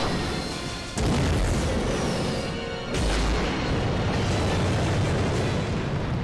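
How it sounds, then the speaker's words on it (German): A massive explosion in the Antarctic setting of Resident Evil Code: Veronica X, a heavy booming blast that erupts suddenly and rumbles loudly, with a second deep surge of roar a couple of seconds later sustaining the thunderous noise. "Und in der Antarktis gerade einfach die krasseste Explosion ever."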